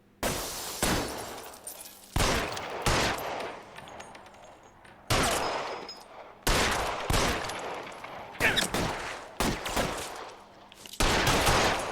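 Gunfire from the L.A. Noire video game: repeated loud bursts of shots in clusters, each ringing out with a short echoing tail, with brief lulls between volleys.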